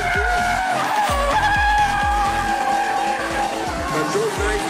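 A red C-33 Ventura race car skidding through corners, with repeated screeching tire squeals and engine roar, while a commentator talks over it throughout.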